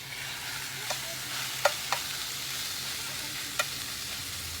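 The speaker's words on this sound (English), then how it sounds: "So we want a really good sear on this beef strip." A beef strip loin rubbed with rosemary, salt, pepper, olive oil and garlic sears in a skillet over a campfire, making a soft, even sizzle with a few faint ticks and pops.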